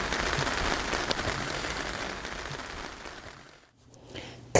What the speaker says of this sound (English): Cool, it was raining there then.